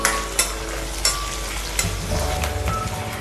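Chopped ivy gourd sautéing in hot oil, with a soft sizzle and a few sharp scrapes and clatters as it is stirred in the pan at close range.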